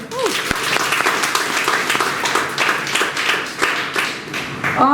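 Students at a guidance camp applauding loudly: dense, continuous clapping from a large crowd fills the whole stretch, close and steady, with a voice briefly heard at the start and again at the end.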